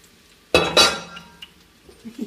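Sliced yellow courgettes drop into a metal pot with two quick clattering impacts, followed by fainter scattered knocks and clinks of pieces settling and a utensil touching the pot.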